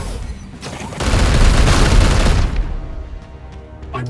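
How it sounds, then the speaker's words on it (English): A psychic onslaught attack in Warhammer 40k: Chaos Gate - Daemonhunters: one loud, roaring boom that swells for about two seconds and then fades. Faint crackling follows. "So, if I do this psychic onslaught, you can see I can even hit him through the cover like that"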